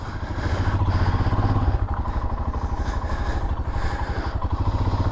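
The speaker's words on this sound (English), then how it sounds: "the exhaust has a different sound to it." A Royal Enfield Himalayan motorcycle with a booster plug and AIS delete runs close by, its steady, deep, throbbing exhaust note pulsing rhythmically throughout, with no talking.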